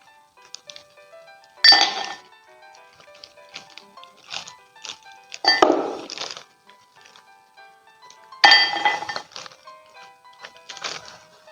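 Ice cubes clink and rattle into a glass for a serving of es dawet, a sweet Indonesian iced drink. Several separate bright pours and clatters come close up, with lighter tinkles between them and no talking.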